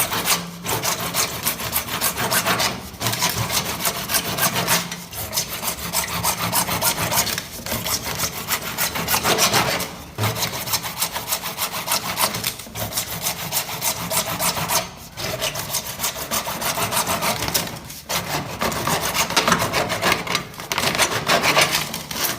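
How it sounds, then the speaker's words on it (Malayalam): A plumbing pipe being sawn to size for a house fitting, heard as steady back-and-forth rasping hand-saw strokes in a fast rhythm, close and loud, briefly pausing every few seconds for over twenty seconds without talk. "ഇനി നമ്മൾ അതിനനുസരിച്ച് കട്ട് ചെയ്യണം."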